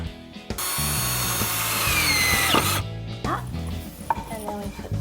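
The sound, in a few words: power drill driving screws to fasten a wooden bench frame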